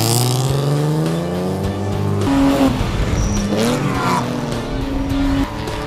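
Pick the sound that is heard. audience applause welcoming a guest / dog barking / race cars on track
race cars on track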